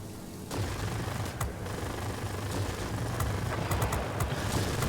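Rapid cannon fire from a Yak-9 fighter in the World of Warplanes video game, a dense continuous burst of gunfire lasting several seconds over engine drone, moderately loud with no talking.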